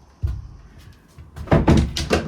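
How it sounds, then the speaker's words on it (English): Loose door being shifted aside during a toilet compartment build, a few close knocks and thunks followed by louder bumping and scraping as it moves. "let me just move this door out of the way."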